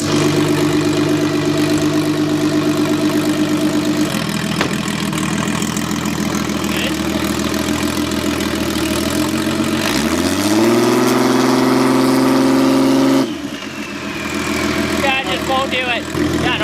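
A Toyota Supra engine runs on a dyno, a loud steady drone that shifts pitch and swells as it revs up, then drops off abruptly near the end, with people talking over it.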